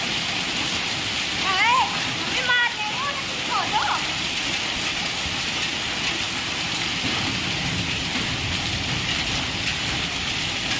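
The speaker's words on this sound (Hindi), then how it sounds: "और बारिश देखिए आपने कितनी तेज़ है" Heavy rain mixed with hailstones pounds down outdoors in a steady, dense roar that fills the whole stretch, with someone speaking over it.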